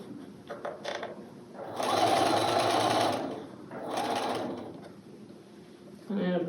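Sewing machine stitching quilt block pieces for a flowering cactus block, with two sustained runs of close, steady whirring separated by quieter handling noise and a brief voice near the end.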